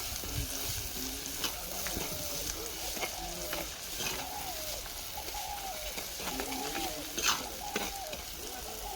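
Spicy dal frying in a pan in a village kitchen, a steady sizzle and crackle with scattered clinks of stirring, while a dove coos faintly in the background.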